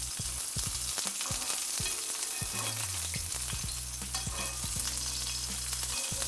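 Tuna searing in hot oil in a pan, a dense, steady sizzle and crackle heard up close, with occasional soft knocks of a utensil as oil is spooned over the fish, and no talking.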